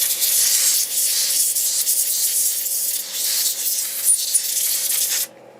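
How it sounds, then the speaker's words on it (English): Isopropanol squirted onto the circuit board of a Rohde & Schwarz APN-62 audio signal generator under repair gives a steady, close hiss that runs for about five seconds, then cuts off abruptly. "just squirt a little bit of isopropanol onto the board"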